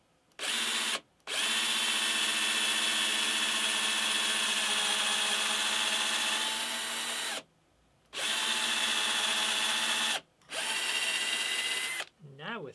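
A router in a Crimson Guitars inlay cutting jig cuts through sapele down into the baseboard, with dust extraction fitted. Loud, close, high whining bursts run for several seconds, with short pauses between them.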